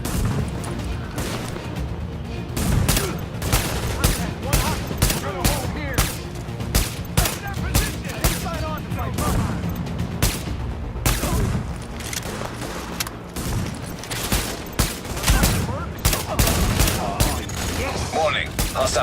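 Sustained gunfire in the video game The Division: dense, rapid rifle and automatic bursts crack almost nonstop, loud and close, with game voices mixed faintly underneath.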